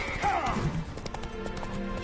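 Hooves of Geralt's horse Roach clatter at a gallop in The Witcher 3, a brisk clip-clop rhythm close by under a busy game soundscape with music and effects, no speech in the clip.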